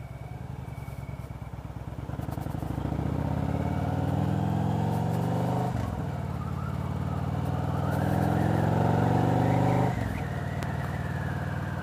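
A motorcycle engine heard from a backpack camera while riding, a steady droning hum that climbs through gears, with wind rush and a couple of brief dips between shifts.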